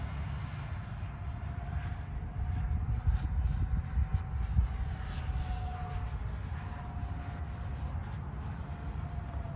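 An RC MiG-29 model jet with twin 64mm electric ducted fans flies past at about a third of full throttle, giving a steady distant whine with a slowly shifting tone over a low rumble of wind.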